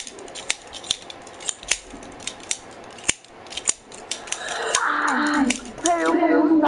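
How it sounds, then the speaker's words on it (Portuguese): A pair of scissors snips over and over in sharp, clicking cuts at an uneven pace, close and distinct, while game sounds from Apex swell and grow busier toward the end. "O barulho da tesoura me deixou com dor de cabeça, velho."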